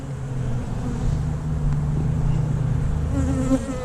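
A large, gentle colony of honey bees on foundationless comb in an open hive makes a steady, dense, close buzzing drone that holds evenly throughout, with no voices.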